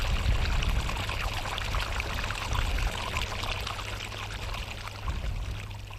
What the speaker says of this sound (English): farmers utilize machines to pump water from the grounds to their farmlands